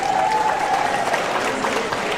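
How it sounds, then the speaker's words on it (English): Crowd applause breaks out for the final robotics teams at a V5RC 2026 Davis competition, a dense wash of clapping and cheering that stays loud and steady for the full moment with no one talking. "Audience, let's get one more round of applause for our final teams."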